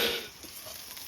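Pointed gourd (potol) sizzles in hot oil in a home kitchen, a brief, steady frying hiss with no voices over it.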